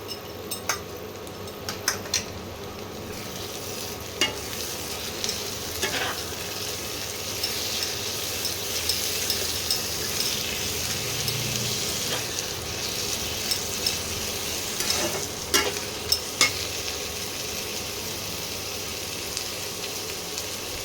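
Onions fry with ginger garlic paste for a lamb curry, a low steady sizzle with occasional scrapes and clinks of a utensil against the pan, close and without talk.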